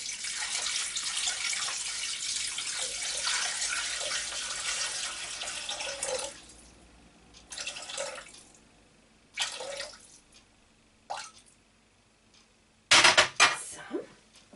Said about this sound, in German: Nun fügen wir 750 Gramm Wasser dazu.